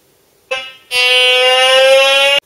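A Teknetics Eurotek Pro metal detector's pinpoint tone: loud and harsh, sounding briefly, pausing, then blaring continuously for about a second and a half before cutting off abruptly.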